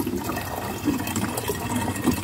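Water trickles and splashes from a hose fed by a distant mountain source, a weak, steady flow heard close up with no talk.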